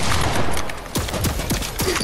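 Gunfire in a video game, a rapid burst of sharp, punchy shots at an uneven rhythm over a steady background din, heard loud and close.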